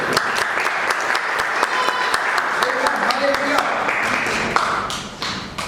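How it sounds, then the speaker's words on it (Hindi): A church congregation bursts into loud, sustained applause, dense clapping filling the room for several seconds before thinning out near the end. "जोरदार ताली से प्रभु को धन्यवाद"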